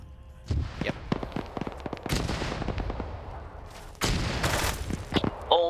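Combat in a military video game, with mortars and gunfire: a rapid string of sharp gunshots and heavier blasts crackles throughout, louder toward the end, with faint voices mixed in.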